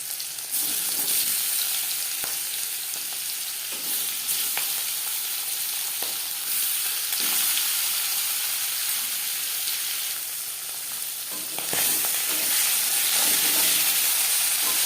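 Pangas fish frying in refined oil gives a steady, loud sizzle and hiss that runs the whole time, with occasional sharper crackles and pops rising out of it.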